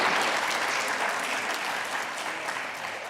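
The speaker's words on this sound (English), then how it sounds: "Big round of applause for the top 10 worst costumes." An audience at a live morning show gives a big round of applause, dense and steady clapping that fills the whole stretch and slowly tapers slightly.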